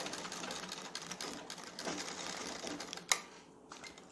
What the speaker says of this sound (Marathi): आतील बाजूने जिथपर्यंत आपण जो कट दिलेला आहे प्लॅकेटसाठी कटपर्यंत शिलाई मारून घ्यायची.